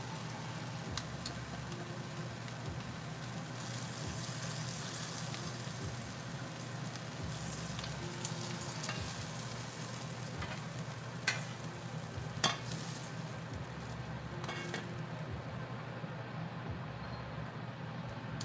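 Freshly picked garden vegetables sear in a hot pan, giving a steady, close sizzle across the whole stretch with a few sharp clinks and pops rising above it; no one speaks.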